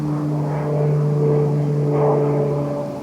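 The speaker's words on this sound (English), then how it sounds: "we've also got a plane flying overhead" A small turboprop plane flies overhead above a garden in early summer, a steady droning hum with strong low tones that swells and fades gently as it passes, moderately loud and without talk.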